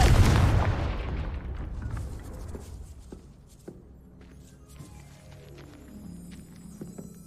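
A Confringo blasting spell bursts in a video game with a loud booming explosion at the start, its rumble decaying over several seconds into scattered small impacts and faint ambient sounds.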